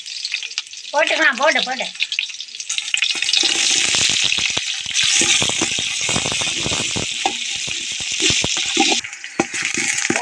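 Chopped onions hitting hot oil in a pan for Tamil vegetable rice, bursting into a loud, steady sizzle that holds throughout with stirring rattles, after a brief spoken word at the start.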